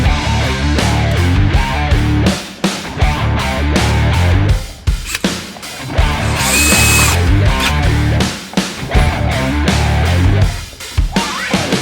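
A power tool drives a bolt into a welded nut on a Jeep, whining loudly and up close in repeated bursts with brief gaps and changes in pitch, no voices over it.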